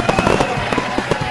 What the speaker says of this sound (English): Boom! Fireworks for our winner.